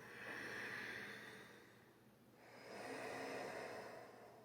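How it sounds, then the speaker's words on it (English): Ujjayi yoga breathing, the ocean-sound breath: one long hissing exhale, a brief pause, then another slow, steady, airy breath close to the listener. "that ocean sound breath"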